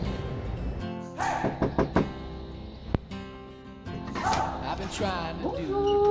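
Knocking on a house door during a visit to acquaintances, a few sharp raps near the middle of the clip, with a dog barking and people talking around them.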